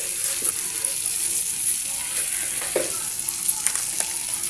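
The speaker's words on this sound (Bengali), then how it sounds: "এবার আমি ভালো করে ভেজে নেব।" Vegetables frying for spicy egg pasta, a loud steady sizzle with occasional light clinks from stirring, close and continuous.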